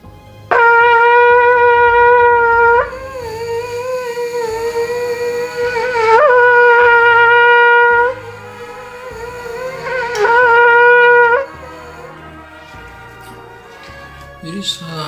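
Trumpet played alone in several long held notes, a bright brassy tone ringing clearly with short pauses between phrases and a quiet room behind.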